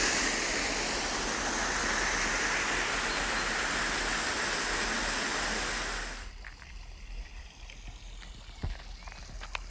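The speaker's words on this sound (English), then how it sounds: "lovely waterfall and wood features." A waterfall in Scottish castle gardens gives a steady, loud rushing hiss that fades after about six seconds into quieter outdoor ambience with faint scattered sounds.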